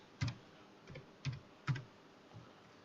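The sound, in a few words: typing on computer keyboard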